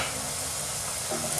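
Spices sizzle and hiss steadily in a hot pan for a Bengali fish and bean curry, a continuous broadband frying sound with a faint stirring scrape near the end and no talking.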